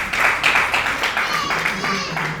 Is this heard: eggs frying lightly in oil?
no